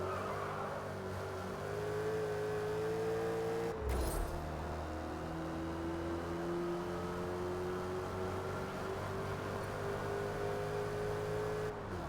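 A muscle car in a career-mode racing game holds a steady, droning engine note for twelve seconds, with a brief sharp burst near four seconds as the pitch dips and then climbs again.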